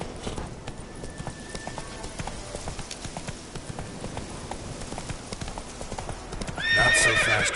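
Horse hooves clip-clopping at a steady gallop in the Witcher 3 video game, a continuous rhythmic pounding, then a loud whinnying neigh near the end.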